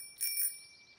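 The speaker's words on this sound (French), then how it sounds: "c'est la sonnette le plus important, parce que ça fait un son très joli" A single bright bicycle bell rings twice in quick succession in a children's cartoon, clear and close, then fades out.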